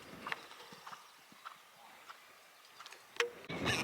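A five-year-old young horse under a rider in a lesson, hooves clip-clopping in a steady, fairly quiet rhythm, with a few louder thuds and rustles toward the end.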